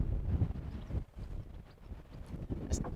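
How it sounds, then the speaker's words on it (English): Outdoor wind gusts buffet a microphone beside a homemade wood-fired hot tub, a low rumbling roar that surges and briefly drops away, with no one speaking. "it's definitely windier"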